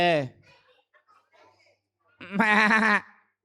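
A puppeteer's voice imitates a goat bleating in a Tamil puppet show, a short wavering bleat at the start and a longer, loud quavering bleat near the end, alone with brief quiet between.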